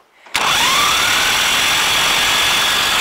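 A T-25 tractor engine fires up suddenly after a brief quiet moment, catching at once and settling into a loud, even idle with a faint rising whine.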